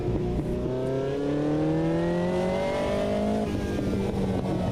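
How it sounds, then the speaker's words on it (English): A racing car in the Automobilista 2 sim climbs through the revs in a rising engine drone, then a gear shift drops the pitch and it pulls again, steady and loud with no talking. "the sound of the engine just completely going when you get to a certain point of revs and then coming back when you shift"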